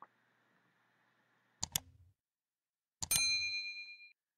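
A notification bell sound effect: a soft tone, then two quick clicks, then a bright ringing ding that sustains and fades, clean against silence.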